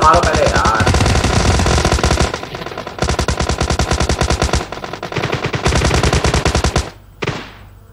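Loud, close automatic gunfire from the mobile game PUBG Mobile, long rapid bursts separated by short pauses, ending with a fading tail.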